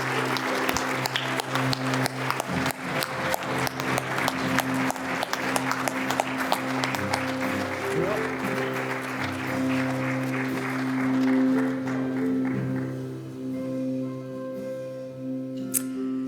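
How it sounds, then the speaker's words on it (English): Sustained applause from a crowd at an awards gala, steady and dense, gradually thinning out toward the end. "join me in a round of applause for the recipients of the posthumous induction"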